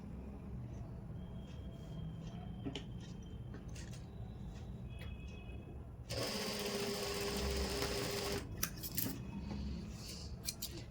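A sewing machine stitching a collar runs in a steady close whirring burst for a couple of seconds, set between quieter stretches of fabric handling and faint clicks.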